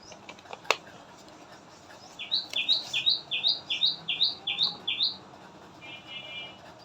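Birds call in a quick run of about eight bright, evenly spaced chirps, clear and fairly close, followed by a softer trill, over faint room noise.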